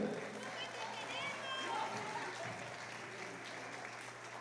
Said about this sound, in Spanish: eso hay que aplaudirlo